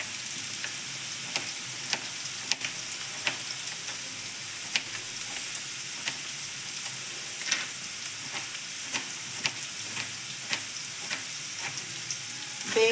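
Chopped onions fry in a pan for mushroom palya, giving a steady soft sizzle with scattered light crackles and occasional stirring clicks, fairly quiet and with no one talking.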